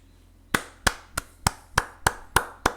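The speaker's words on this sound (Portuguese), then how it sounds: "Palmas e mais palmas, Érica Hilton." Eight sharp, evenly spaced hand claps ring out one after another, crisp and fairly close, against a quiet background with no talking.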